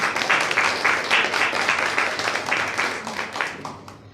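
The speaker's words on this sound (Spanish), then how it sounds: "la señorita Lili Sánchez, a quien recibimos con fuertes aplausos." Audience applause at a book presentation, a steady wash of many hands clapping that holds loud for about four seconds, then begins to thin and fade toward the end.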